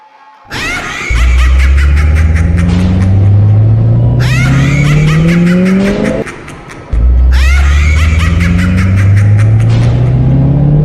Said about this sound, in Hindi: सुमित दौड़ता हुआ गाड़ी स्टार्ट करता है और वहां से भागने लगता है।